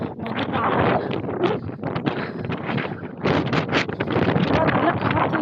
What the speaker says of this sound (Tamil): நல்லா காற்று பயங்கரமாக வீசுது. காற்று சவுண்டே உங்களுக்கு கேட்கும் நான் பேசுகிறத விட.